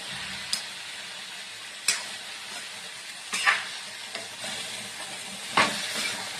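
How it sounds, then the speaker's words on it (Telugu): Steady sizzling of broad bean pieces frying in hot oil tempering, broken by a few sharp scraping knocks as it is stirred; no voices. "చిక్కుడుకాయ ముక్కలు కూడా ఇలా వేసాను"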